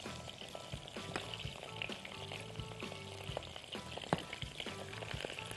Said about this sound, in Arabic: بشوحها كويس قوي قبل ما احطها في الميه علشان تتسلق